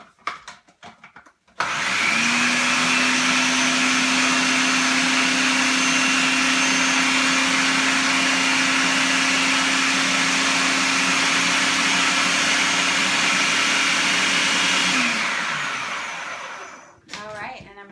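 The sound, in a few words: blender blending sweet potato hummus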